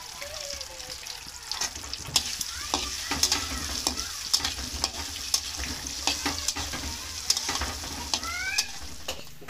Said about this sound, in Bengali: তেলে আমি আলু আর ডিমগুলো একসাথে ভেজে নেব।